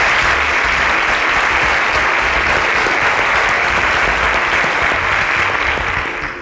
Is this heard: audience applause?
yes